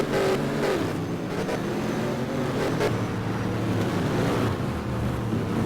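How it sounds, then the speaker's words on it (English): Off-road racing buggies in a championship race, their engines a constant loud roar with wind noise and no clear breaks. "The engine sounds of these buggies is simply marvellous"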